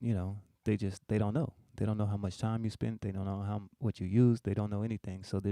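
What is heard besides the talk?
None of the usual background noises is heard.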